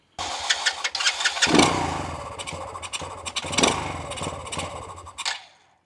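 A Boom Vader 125 motorcycle fitted with a new, untuned carburetor cranks and sputters into a rough, uneven run up close, its engine surging and faltering for several seconds before cutting out.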